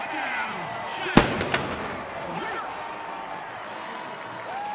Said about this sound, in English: Fire that cannon.